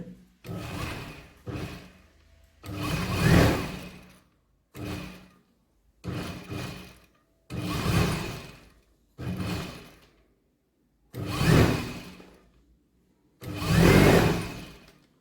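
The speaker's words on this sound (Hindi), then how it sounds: "अभी उसको ऊपर हम सिलाई लगा लेंगे।" A sewing machine stitches the folded two-inch hem of ladies' pants in repeated bursts of running motor whir, each lasting about a second or more, separated by short pauses, close and fairly loud.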